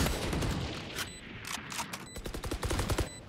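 Rapid bursts of gunfire in the video game Valorant, a close, loud string of sharp shots in quick rhythm, denser toward the end, with no talk.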